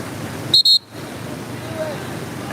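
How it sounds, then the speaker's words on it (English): A 15-second timer buzzer sounds during a big air snowboard final, two short loud electronic tones in quick succession, cutting over steady crowd and wind noise. "The 15-second timer has gone off."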